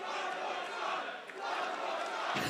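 A wrestling crowd at the Adelaide Oval in South Australia keeps up a steady roar of cheering and shouting, heard somewhat distant and fairly faint, with a sharper burst right at the end.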